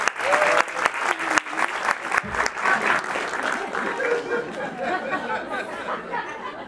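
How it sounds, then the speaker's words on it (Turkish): An audience at a theatre awards ceremony claps loudly in a dense burst that gradually thins and softens, with chatter running beneath it. "ödülü takdim etmek üzere alkışlarınızla Günay Karacaoğlu'nu sahneye alıyoruz"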